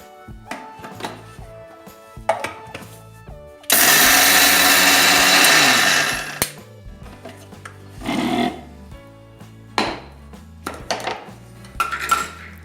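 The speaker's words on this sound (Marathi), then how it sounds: "आपण थोडंसं मिक्सरमधून बारीक करून घेणार आहे" A mixer grinder grinds cooled sesame seeds in one loud, roaring burst of about two and a half seconds, with kitchen clatter and soft background music before and after.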